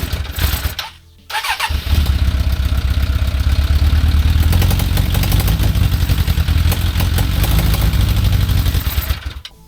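A quad fitted with a motorcycle engine catches and starts after a short cranking burst, then runs loud and rough as the throttle is blipped repeatedly, with pod filters fitted and the jetting still off, before it cuts out at the end.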